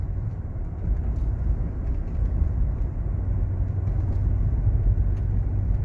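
A 1989 Lincoln Town Car cruises down the road, heard from inside as a steady, heavy low rumble of engine and tyre noise with no talking.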